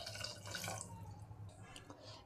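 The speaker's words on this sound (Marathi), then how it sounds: "पाणी घालणार आहे" Water poured into a pot of dal palak as it cooks, a steady splashing pour with bright watery bursts that fade toward the end, heard close and alone.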